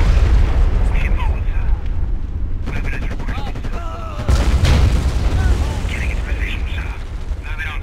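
Shelling in the video game Codename Panzers Cold War, heavy booming explosions and machine-gun fire rumbling continuously, with radio voices speaking over the battle.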